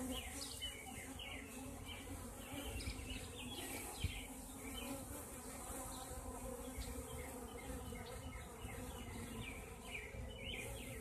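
Honeybees at the landing board of a Lazutin double deep beehive, a steady close swarm of buzzing with individual bees droning past, faint bird chirps in the background.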